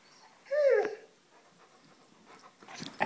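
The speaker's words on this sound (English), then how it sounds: "Clumsy dog." A dog gives a short whining whimper, followed by soft panting and small shuffling sounds nearby.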